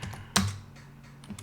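A short burst of computer keyboard typing, a few quick keystrokes with one sharp louder press, close and alone in a quiet room during a Linux terminal session.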